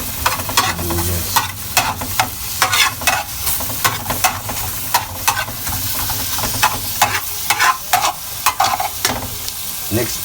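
Onions sauté and sizzle in a pan for pork rib tinola, a steady close frying hiss broken by repeated scraping stirs of a utensil against the pan.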